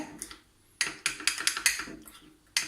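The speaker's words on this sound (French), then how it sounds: "Donc là, on mélange rapidement." Cake batter for small Ramadan cakes is whisked quickly in a bowl, producing a fast burst of sharp utensil clicks and scrapes against the bowl after a brief quiet start, with one more clink at the end.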